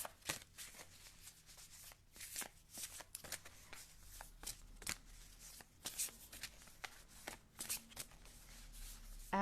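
A deck of oracle cards being shuffled by hand, with repeated soft riffles and slaps in irregular bursts, close and fairly quiet, with no talking.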